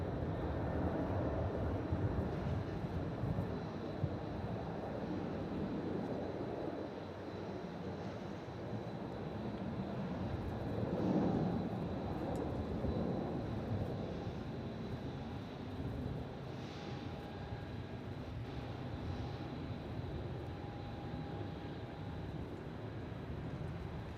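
A Velocity airliner takes off on runway 27 at Melbourne Airport, a steady distant jet roar spread broad and even over the whole stretch with some wind noise, no one speaking.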